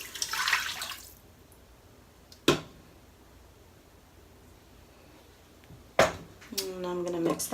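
Beef broth, 1.5 cups, pours into an Instant Pot for a Mississippi pot roast as a short splashy rush lasting about a second, followed by a couple of isolated clunks and quiet gaps.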